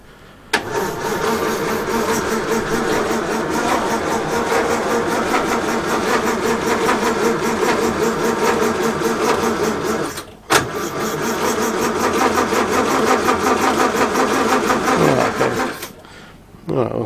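A 1932 Morris Minor engine cranks and catches, running with a loud steady mid-pitched chug, cutting out briefly and restarting before stopping near the end.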